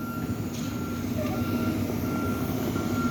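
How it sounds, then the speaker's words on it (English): Steady electronic reversing beeps from a concrete mixer truck, repeating over a constant low diesel engine rumble at a foundation pour, with no voices. "See all the concrete trucks over there."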